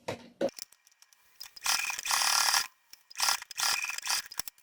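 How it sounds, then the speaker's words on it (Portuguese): A domestic sewing machine stitches a seam on a small fabric case in two loud, close whirring bursts, with scattered clicks and handling sounds between them. "E passar uma costura aqui."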